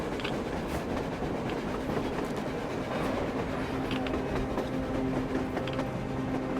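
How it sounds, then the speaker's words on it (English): In the video game Metro Exodus, a train rumbles past on the surface with continuous clattering wheels and metallic clanks, a loud, steady roar throughout. "A train! A damn train on the surface!"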